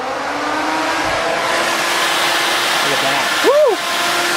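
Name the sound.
electric radiator cooling fan spinning, Chevy square body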